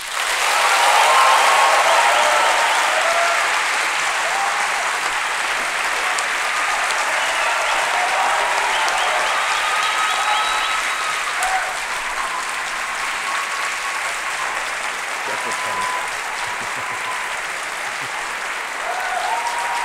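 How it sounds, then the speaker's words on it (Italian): Sustained loud applause from a large crowd at a talk by Roberto Saviano, dense clapping that swells at first and continues steadily for the whole stretch. "Quindi vi chiedo un applauso"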